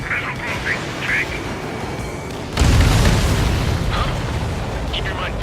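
An enemy transport blows apart in the Ace Combat 7 flight game with a sudden loud, broad boom that rolls on into a sustained rumble beneath engine roar and radio voices talking.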